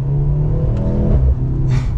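A 2023 Mercedes-Benz C43 AMG with a four-cylinder hybrid engine accelerates from inside the car, a steady loud low drone with rising engine tones and a brief hiss near the end.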